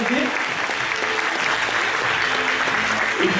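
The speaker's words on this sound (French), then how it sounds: "Et je pense qu'on va encore une fois pouvoir applaudir bien fort Cindy et Didier, hein, quand même." An audience at a magic show applauds steadily and loudly throughout, a dense wash of clapping from a sizeable crowd with a voice briefly audible underneath.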